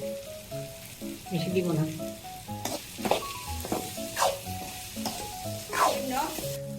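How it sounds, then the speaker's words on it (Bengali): Green chili pieces fry with cauliflower in a pan, a busy sizzle punctuated by stirring scrapes and clinks, while a voice speaks briefly over the cooking and a melodic tone plays in the background. "কয়েক টুকরা কাঁচা লঙ্কা দিয়ে দিচ্ছি"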